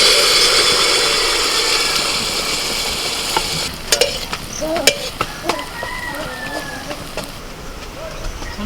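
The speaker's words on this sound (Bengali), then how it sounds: "এক হাতা করে ব্যাটার নিয়ে আমি ছেড়ে দিচ্ছি তেলের মধ্যে" Ladlefuls of malpua batter fry in hot oil with a loud, steady hiss that softens as voices begin talking over it, along with a few light clinks.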